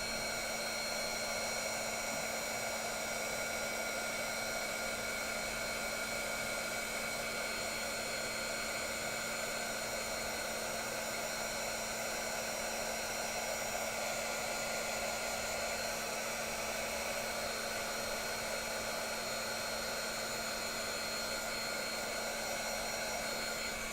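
A heat embossing tool blows hot air in a steady, unbroken whir with a constant tonal hum, close and even throughout, with no talking.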